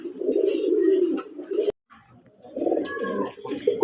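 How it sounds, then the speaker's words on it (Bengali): A pair of Rajgolla pigeons coo in low, throaty bursts close by, with a short gap of silence between calls and a faint chirp. "এখানে আছে একজোড়া রাজগোল্লা কবুতর।"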